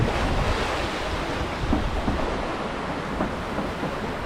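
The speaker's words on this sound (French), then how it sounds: "là il y a une très belle vague" Ocean waves and wind rush steadily around a sailboat running under full sail with a self-tacking jib in a good swell, a loud continuous wash with buffeting wind on the microphone and no talk.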